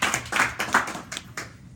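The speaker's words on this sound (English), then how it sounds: "Give her a big round of applause." An audience claps in a short burst of applause, several distinct loud claps close together over under two seconds, with no talking.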